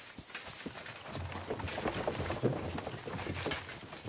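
Horse hooves clip-clopping in Kingdom Come Deliverance 2, a steady trot of soft thuds at moderate distance with faint bird calls in the background and no talk.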